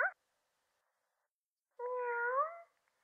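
A house cat meows close by: a short clipped call, a pause of silence, then one longer drawn-out wavering meow, with no talking.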